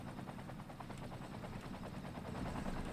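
A helicopter in the video game OpenTTD gives off a steady, rapid rotor chop, moderately loud and continuous over a low rumbling game backdrop.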